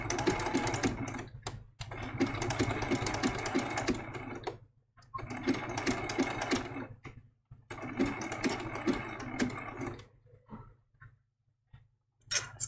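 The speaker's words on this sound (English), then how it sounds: "I'm using the same exact zigzag stitch all the way through." A sewing machine runs a zigzag stitch on a baby giraffe quilt applique in close bursts of rapid stitching, stopping and starting with short quiet gaps between runs.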